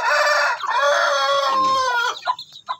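Nearly three-month-old Rhode Island cross Basilan chickens clucking and crowing loudly and close by, sustained calls breaking into short choppy clucks at the end.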